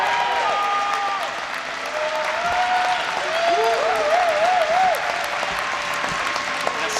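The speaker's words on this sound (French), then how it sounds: "Merci de faire un tonnerre d'applaudissements" An audience at Japan Expo applauds the France Five sentai team, a broad steady wash of clapping from the crowd with sliding, warbling tones and voices running over it.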